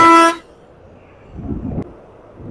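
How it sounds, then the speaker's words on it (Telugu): A bus horn honks loudly in one short blast close behind a motorbike riding on the road from Karimnagar to Hyderabad, then fades into quieter road and engine noise. "వాడు వచ్చి హారన్ కొడుతుండు జరుగు అని"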